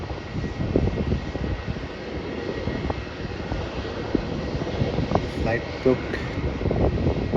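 A Jetstar Airbus A320 arriving from the Gold Coast lands at Melbourne Airport, its engines a steady, loud broadband roar with rumbling low end throughout, while a voice speaks briefly over it.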